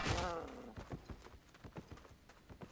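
Horse hooves clip-clop in an even walking rhythm in the online fantasy game Albion Online, each step crisp and close, following a brief burst of game sound at the start.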